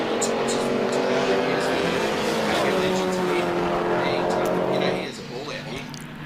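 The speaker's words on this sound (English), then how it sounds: "There's Nick Higgins, car number 71, made his way back out on track." A tribute race car, number 71, runs on track at a regularity event, its steady engine drone loud and continuous before dropping off near the end as it pulls away. Commentators talk over it.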